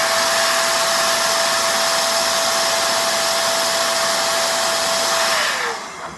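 A corded electric air duster blows on its high setting with a loud, steady whooshing roar and a constant motor whine, then winds down and fades at the end.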